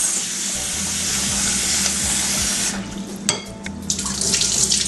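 Tap water runs into a sink as two cups of rice are rinsed for rice and peas, a steady close rush of water that gives way to clinks and sloshing handling in the last seconds.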